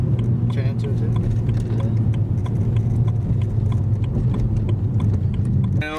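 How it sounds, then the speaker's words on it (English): Car engines revving at a busy street car meet, with a Honda S2K among the cars, sustained and loud throughout with crowd noise and talk layered over the rumble. "Sounds of the revvings of the engines"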